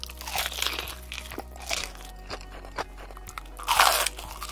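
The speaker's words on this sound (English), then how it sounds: "the attractive and soothing sight of deeply browned KFC chicken being slowly and deliberately consumed" Crunchy KFC fried chicken bitten and chewed close to the mic in an ASMR style, with loud crisp crunches in bursts between softer chewing sounds.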